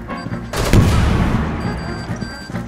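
Gunfire from the Rainbow Six Siege video game: a burst of loud, sharp shots followed by more scattered rattling fire, close and dense over a short stretch.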